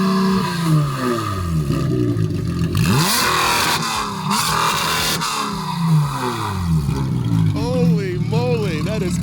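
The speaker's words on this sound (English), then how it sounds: "So let's hear this 992, 911. Rev up real quick" A Porsche 911 992 GT3 revs its engine repeatedly, loud rising and falling howls sweeping up and down in pitch, with people talking over it.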